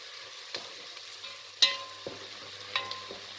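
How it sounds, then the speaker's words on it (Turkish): Quiet sizzling of onions sautéing in a pan, with occasional clinks and scrapes of a utensil stirring, no voices. "Şimdi güzelce kavurma işlemini yapıyoruz. Yani soteliyoruz soğanımızı."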